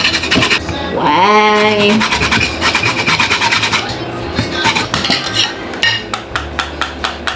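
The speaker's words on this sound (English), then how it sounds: "I'm gonna grate this." A cook grates an ingredient by hand for a Jamaican fruit cake, making a steady close rasping scrape that ends in short rhythmic strokes, with a brief spoken word early on.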